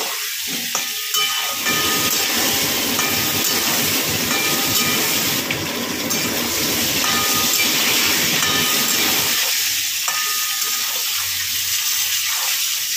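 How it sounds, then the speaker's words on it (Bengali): Pointed gourd pieces frying in oil in a pan, giving a loud, continuous hissing sizzle with dense crackling that eases toward the end, no voices. "চার মিনিট ধরে পটলগুলোকে আমি ভালো করে লাল লাল করে ভেজে নেব।"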